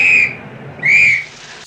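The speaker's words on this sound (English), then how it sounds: "She's got a whistle for the cabs." A whistle for hailing cabs, heard in a 1968 film scene, sounds two shrill, loud blasts, each about a third of a second long, separated by a short gap, with no talk.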